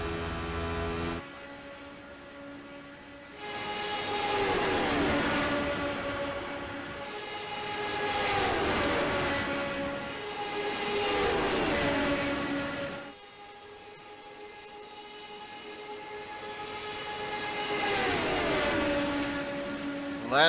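Race cars at the Monza circuit, including an Outcast SR8, sweep past in repeated waves, each engine note rising and falling as cars approach and pull away, with steady track noise in between.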